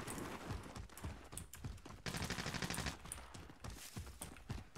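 Rapid gunfire in a shooter video game, bursts of quick cracking shots over dense background game noise, faint in the mix.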